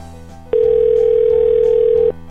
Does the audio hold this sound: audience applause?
no